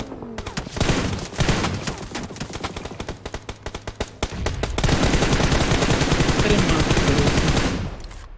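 An M249 machine gun in the mobile game BGMI fires in a long run of rapid close shots, then erupts into a dense, continuous sustained burst that holds to the end, with players talking over it.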